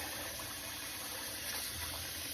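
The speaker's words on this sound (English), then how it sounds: "So we're just going to rinse it." Water rinsing rice in a bowl for sushi, a steady broadband wash of running and sloshing water heard close and continuous, with no voices.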